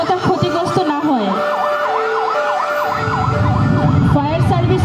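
A fire service vehicle siren wails loudly and close in a rapid rising-and-falling pattern, with a heavy engine rumble underneath, during a fire and earthquake response demonstration.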